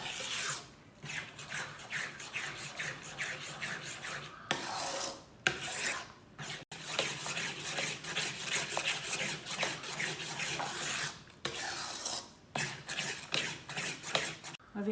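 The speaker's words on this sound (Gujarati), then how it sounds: "આ ચાસણી હવે લોટમાં નાખું છું. આમ હલાવી નાખવાનું ચાસણી નાખીને." Flour is stirred with sugar syrup in a pan while making Gujarati Mohanthal. Close, steady scraping and rasping strokes repeat in a continuous rhythm, broken by a few brief pauses.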